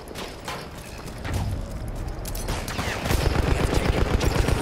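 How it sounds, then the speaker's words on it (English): Rapid gunfire crackles through a World War I shooter match, scattered shots building into dense, rhythmic machine-gun bursts of a Lewis gun, loud and close, with no talk over it. "Someone's shooting at me with a sniper."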